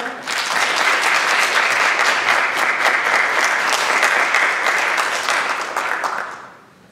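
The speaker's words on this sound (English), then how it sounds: "give these students a big round of applause" At a high school senior awards day, the crowd gives students a big round of applause, loud continuous clapping that swells quickly, holds, then fades out near the end.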